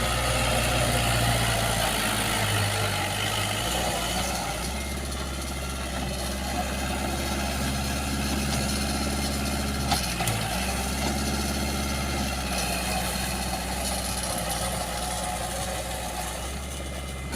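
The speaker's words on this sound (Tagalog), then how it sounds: "ito yung traktora sa bahay" A heavy diesel tractor engine drones steadily and loudly nearby while plowing a rice field, a low constant rumble, with a voice faintly underneath.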